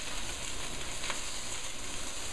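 A lamb chop held upright in a hot pan, fat edge down, sizzling in a steady, even hiss close by, with no talk.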